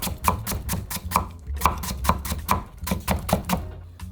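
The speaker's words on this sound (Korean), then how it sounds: "당근은 오이보다 단단하잖아요. 그래서 얇게 채 썰 거예요." A knife julienning a hard carrot into thin strips on a cutting board, giving a steady, fast run of crisp chopping taps close up with no talking.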